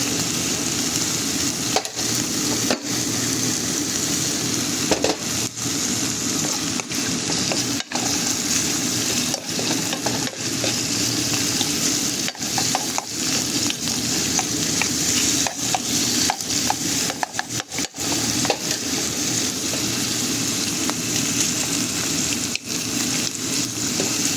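Eggs and vegetables fry in olive oil in a pan, a steady close sizzle running throughout with scattered clicks and scrapes of stirring, no voices.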